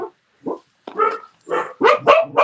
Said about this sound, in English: She has a very high pitched bark.